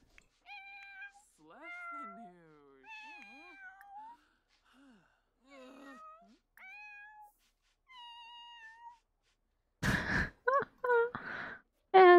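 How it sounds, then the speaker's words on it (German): A cat in the video game The Sims 4 meows repeatedly in short, high, clear calls spaced over several seconds, followed by a breathy louder burst of vocal sounds near the end. "Aber noch eine Katze?"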